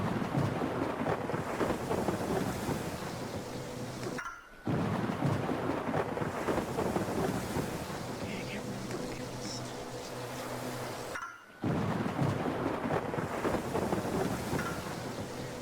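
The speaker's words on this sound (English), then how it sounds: "The waves smacked against the tiny ship, which did its best to keep afloat, but alas, the storm proved too much." Thunderstorm at sea in a visual novel game, a rumbling wash of wind, rain and crashing waves around a small ship, loud and continuous, cut by two brief near-silent gaps.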